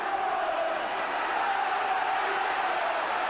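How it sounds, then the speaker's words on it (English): West Ham football crowd at a 1983-84 home match against Manchester United, a steady, dense roar of thousands of voices filling the stadium without a break, loud and continuous throughout. "Roared on by the West Ham crowd."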